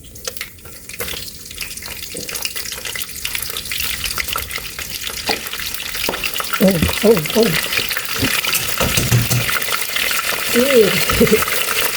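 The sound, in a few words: frying food in a pan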